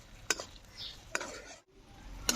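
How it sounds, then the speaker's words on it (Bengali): Chopped tomato stirred in a cooking pan, a low simmering hiss with three sharp spoon knocks against the pan, close and fairly quiet. "একটু টমেটোটা সেদ্ধ হওয়া পর্যন্ত এটা নাড়বো।"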